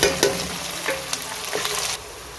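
Onions frying in hot oil with whole garam masala spices for a Bihari-style chicken curry: a dense, steady sizzle with brief stirring scrapes, close and loud, no voices.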